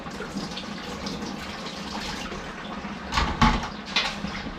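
Tap water runs over farm-fresh organic vegetables being washed in a kitchen sink, a steady splashing flow that grows louder and choppier near the end as the produce is moved under the stream.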